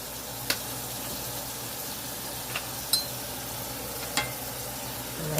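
Greens being stirred into a pot of seasoned water with ham, giving a faint continuous wet churn with a few soft knocks of the utensil against the pot.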